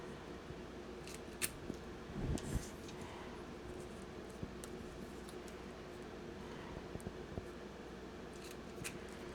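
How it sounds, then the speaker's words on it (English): A handheld hole punch chomping through hole reinforcers cut from thick tape for a wallet album, heard as a few sharp close clicks and crunches over quiet craft-table handling noise. "I'm going to chomp them on the side where I put the thick tape"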